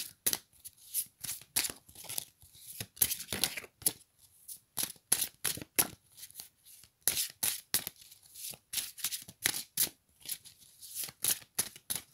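A deck of tarot cards is cut and handled up close, giving quiet, rapid papery riffles and flicks in repeated bursts separated by short pauses.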